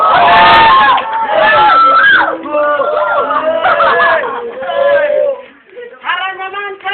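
A live crowd roars and screams in support of a contestant at a pick-up line contest, loud and close, in a long swelling burst that dips briefly before rising again.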